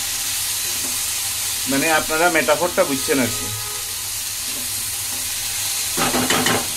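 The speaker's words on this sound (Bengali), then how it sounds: "চালটা ভেজে এখন পানি দিয়ে দেবো।" Rice frying in a pot for hilsa pulao makes a continuous close sizzle and hiss, with people talking briefly over it.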